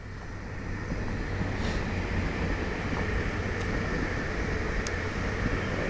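A train runs on nearby tracks on a frosty morning, giving a steady, unbroken low rumble with a droning hum that holds at an even level throughout.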